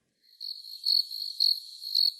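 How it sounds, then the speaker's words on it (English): Crickets chirping in a steady pulsing rhythm, four or five clear high trills fading in from silence, close and isolated with nothing else behind them. "when you edit this, add some crickets in"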